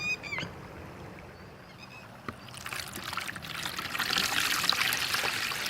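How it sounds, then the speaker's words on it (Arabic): Water trickles and pours into a bowl for homemade pizza dough in a faint stream that swells into a fuller, louder splashing pour over the second half, with a few small clinks early on. "اول شي راح اضيف الماء"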